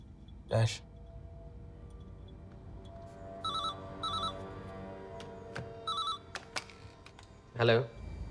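A telephone rings in a Hindi movie kidnapping scene: short bursts of electronic ringing repeat a few times at moderate distance over a low background hum, between louder spoken lines at the start and end.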